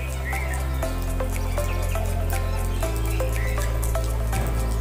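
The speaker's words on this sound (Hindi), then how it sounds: "देखिए अब भाई पानी निकल रहा है" Water rushes steadily from a large homemade pichkari fed through a tap, a loud continuous gush with scattered drip-like splashes and no talking.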